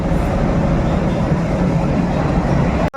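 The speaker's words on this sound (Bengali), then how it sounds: "দুটো ডিজেল লোকোমোটিভ একদম আজকে কাজ করবে" Loud, steady low rumble of two diesel locomotives idling or running close by at a railway station, constant throughout and cutting off abruptly at the end.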